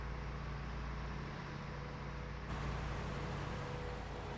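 A vehicle in Farming Simulator 19 drives toward the silo, giving a steady, dense engine drone with strong low rumble that runs unbroken and grows slightly brighter halfway through.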